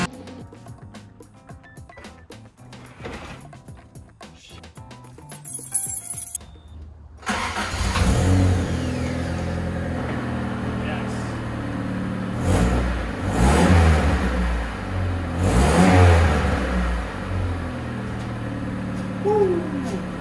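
Honda CRX with a freshly welded exhaust, engine cranking and starting after some clicking and rustling, then idling and revving up loudly and close for several swells.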